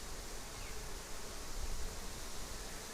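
Honey bees swarm and buzz around an open hive, a dense continuous drone that stays loud and close throughout with no voices.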